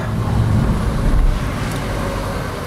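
Inside a car driving down a mountain road: a steady, close low rumble of engine and road noise with a faint airy hiss, unbroken and without talk.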